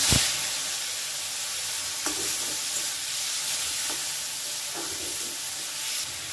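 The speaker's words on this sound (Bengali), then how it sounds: "কড়াইয়ের মধ্যে আমি দিয়ে দিলাম কিছুটা পরিমাণ সরষের তেল। এবারে আমি ওই চিংড়ি মাছগুলোকে নুন হলুদ মাখিয়ে রেখেছি, এগুলো আমি ভেজে নেব।" Shrimp rubbed with salt and turmeric frying in mustard oil in a wok, giving a steady close broadband sizzle with occasional stirring scrapes and no voices.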